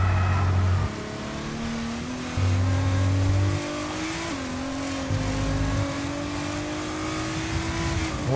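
A Lamborghini race car in the F1 22 video game roars on the Ferrari circuit, its engine note holding high and rising steadily with brief dips at gear changes, loud and close with no voices.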